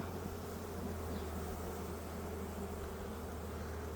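Dense, continuous buzzing of many honeybees at an opened hive during a colony split, a steady loud drone filling the whole clip with no other sound.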